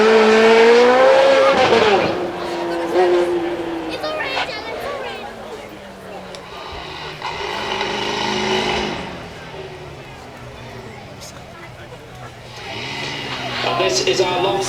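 Long tail Spider supercar with a 3.8 litre twin turbo V8 revving and accelerating at a supercar weekend event, engine pitch rising and falling under loud commentary.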